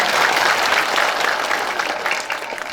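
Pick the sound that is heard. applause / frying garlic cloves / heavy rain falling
applause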